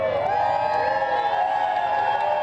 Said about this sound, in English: Another rowdy crowd inside Lamade Stadium.